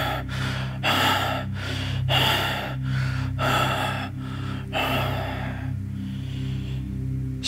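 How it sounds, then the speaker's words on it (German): Rapid rasping breaths come as a run of sharp, evenly spaced gasps and snorts, loud and close at first, then easing into softer, fainter breathing toward the end, with no talk. "Your breath continues to rasp in rapid gasps."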